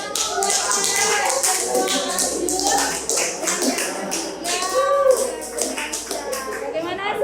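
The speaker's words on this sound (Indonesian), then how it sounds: "tepuk tangan buat Farel." Classroom of students clapping for a classmate, with quick scattered hand claps and taps mixed with children's chatter and a teacher's voice, fairly close and lively throughout.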